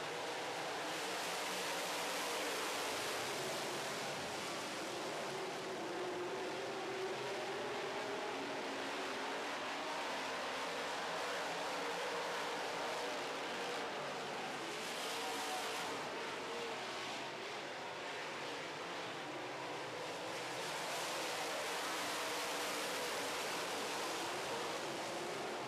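Modified race cars circle a dirt oval during a feature race, a steady, broad roar of many engines blending into a continuous wash of noise at moderate distance, swelling slightly as the pack passes, with no voices.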